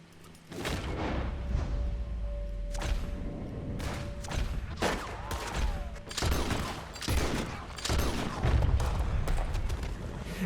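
Gunfire in Red Dead Redemption 2: rapid bursts of shots and booming impacts rattle on continuously, with occasional thuds and mechanical clatter.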